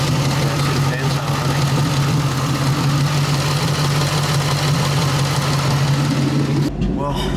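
A Ford Mustang engine idles with its radiator cooling fan running, a loud, steady low hum and whir close by, cutting off abruptly near the end.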